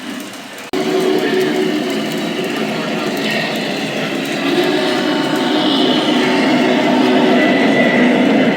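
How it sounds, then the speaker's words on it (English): A Lionel Legacy Berkshire model train, faulty, rumbles steadily along the track with a continuous rolling clatter and faint squeals, close and loud, after a brief quieter moment at the start. "let's get to the running of the trains and check it out"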